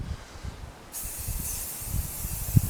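An aerosol rust spray hisses onto a piece of medieval armour, a steady close spray that starts partway in and continues over low handling knocks.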